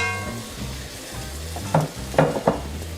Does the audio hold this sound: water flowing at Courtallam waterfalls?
no